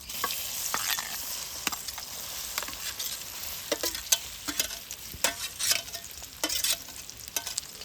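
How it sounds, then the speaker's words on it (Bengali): Marinated soybeans fry in hot oil in a village kitchen, a steady bright sizzle punctuated by repeated scraping stirs of a spatula, close and without voices. "আলুগুলো নামিয়ে নেওয়ার পর সেই তেলেই দিয়ে দিচ্ছি সয়াবিনগুলো।"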